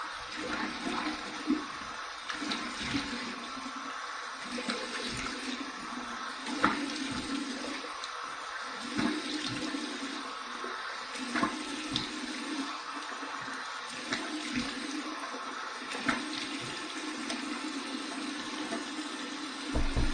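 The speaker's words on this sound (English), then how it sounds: "Clean water without any soap in the sink. We'll just take it right from the tap." Cold tap water runs steadily into a bathroom sink for a soap-free rinse during a shave, a continuous close splashing hiss with small bursts of sloshing throughout.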